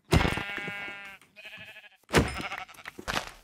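Blocky sheep bleat in Minecraft, a couple of clear, wavering cries close by, with a softer higher bleat between them and a short pause before the last loud call.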